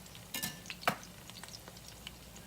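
Onion fritters frying in oil in a pan, a quiet steady sizzle broken by a couple of sharp clinks and splashes as more batter goes in.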